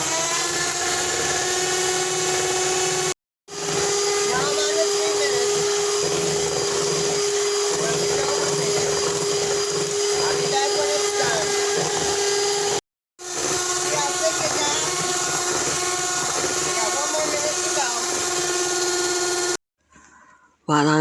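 An electric mixer whirs loudly and steadily while mixing no-bake strawberry cheesecake filling, with two brief stops before it starts again and a pause near the end.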